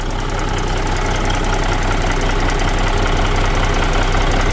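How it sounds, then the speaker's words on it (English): A 1991 Peterbilt 379 single-axle daycab idles after a cold start, its mechanical air-to-air CAT 3406B diesel rated at 425 horsepower giving a loud, steady, close rumble with a rough knocking clatter throughout and no talk over it. "One of the best diesel engines ever made right here"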